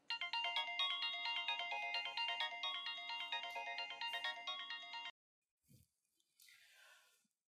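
An electronic ringtone from an incoming phone call plays a repeating melodic pattern loudly and steadily for about five seconds, then cuts off, leaving brief faint rustles.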